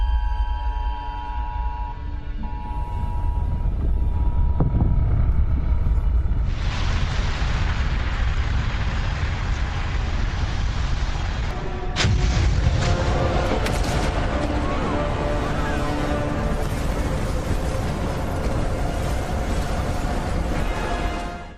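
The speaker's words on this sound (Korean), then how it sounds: "백두산 화산이 폭발했습니다." A Baekdu volcano erupts in a disaster film with a deep, continuous rumbling roar, a sharp blast-like crack partway through and a dense wash of debris and tremor sound that stays loud throughout.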